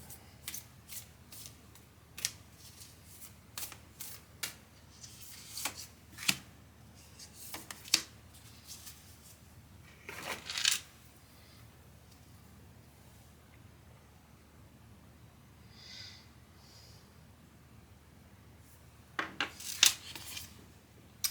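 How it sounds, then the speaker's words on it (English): Oracle cards from a Sacred Traveler deck being shuffled and drawn, with scattered soft flicks and slides and a few denser bursts of riffling, quiet and close with gaps of near silence between. "we're going to pull a Traveler's Sacred Traveler Oracle card to go with this part"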